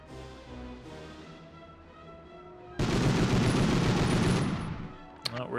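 Dense gunfire and booming bazooka blasts in Medal of Honor erupt suddenly after a quieter stretch, a loud sustained barrage ending with a sharp crack.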